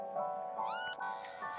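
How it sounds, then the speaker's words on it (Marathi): A domestic cat meows alone, a short rising-and-falling call followed by a quieter second mew, close and clear with no talking. "कॅट म्हणजे मांजर"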